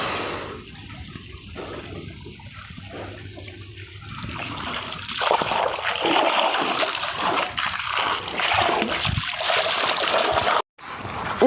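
Water splashing and sloshing as clothes are washed by hand at home with water from a motor pump, a steady wet churning that grows louder midway, with brief voices in the background.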